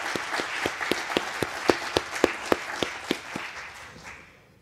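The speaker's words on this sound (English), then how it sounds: "we all sort of give a round of applause to Jon and his many accomplishments." An audience at a symposium claps in a fairly sparse, rhythmic round of applause, individual hand claps standing out clearly before the sound fades away near the end.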